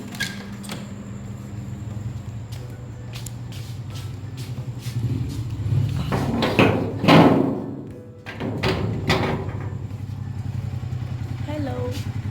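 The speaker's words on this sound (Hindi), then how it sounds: "बाहर वो उनकी जो बाइक की आवाज़ आ रही है" A motorcycle engine rumbles just outside a room, a low steady drone that swells midway as the bike draws near, then settles, with a few thuds and a voice at times.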